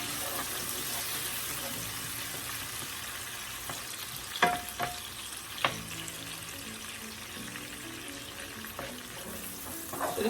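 Vegetables frying in a pan on a stove turned down low, a soft steady sizzle with a few sharp clinks of a utensil stirring, quiet and close.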